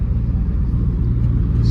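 Lamborghini Huracan Evo V10 engine at a cars and coffee meet, a loud close steady throbbing rumble with no pause.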